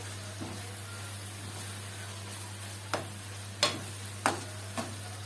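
Garlic added to onions frying in a pan gives a soft, continuous sizzle close by, with a few sharp taps of a spoon stirring near the end.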